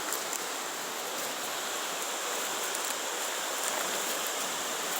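Creek water on a family property rushes steadily and evenly, a close, broadband wash with no pauses and no voices.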